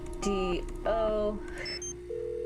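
A cute in-game phone in the Nancy Drew mystery Secrets Can Kill Remastered dials a number, with a run of short electronic tones and beeps followed by a steady ringing tone, clear and close with no talking.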